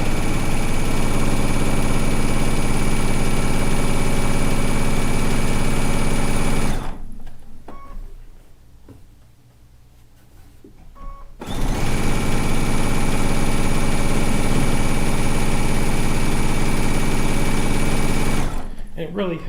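A quilting sewing machine stitches down a strip on a stone log cabin quilt top, running in a loud steady whir, pausing for a few seconds of quieter handling, then resuming its continuous buzz.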